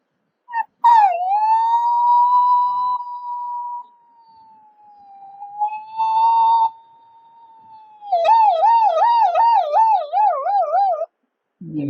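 A person's voice imitates a police siren, first long rising and falling wails, then a rapid warbling yelp, with short pauses between.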